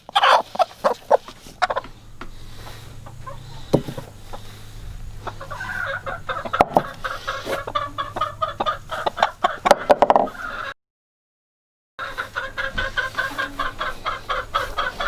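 Hens in a coop with nesting boxes cluck and chatter in a steady, busy stream, close by, with a brief silent gap before the clucking resumes.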